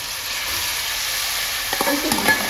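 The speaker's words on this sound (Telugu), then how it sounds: "నూనె ఆయిల్ హీటెక్కింగ్ కదండి మటన్ అందులో వేస్తున్నాను" Mutton sizzles and fries steadily in hot oil, a loud continuous crackle close by, with a few stirring scrapes near the end.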